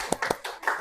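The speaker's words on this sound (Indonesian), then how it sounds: "tepuk tangan untuk kelompok 2" A few sharp, scattered claps in a classroom as a class applauds a student group, brief and uneven, close by and without voices.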